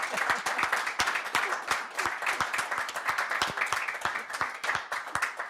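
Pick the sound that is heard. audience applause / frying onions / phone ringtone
audience applause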